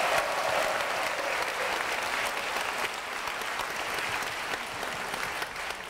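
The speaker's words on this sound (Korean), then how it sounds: "한번 큰 박수 보내주시면 좋겠습니다." An audience at an outdoor political rally in South Korea claps in sustained, dense applause that stays fairly even and slowly eases off, with no talking over it.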